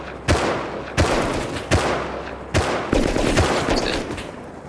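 Gunfire in the survival game Rust, with five sharp, loud shots a second or so apart, each followed by a short rumbling tail, and no talking.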